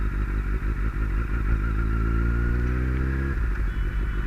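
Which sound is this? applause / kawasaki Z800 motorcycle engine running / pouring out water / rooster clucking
kawasaki Z800 motorcycle engine running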